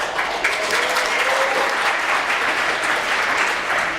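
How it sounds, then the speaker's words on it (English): Sustained applause from an audience at a literary awards ceremony greets a short fiction nominee, a dense steady wash of many clapping hands lasting throughout without a break. "hold your applause till I get through the whole list"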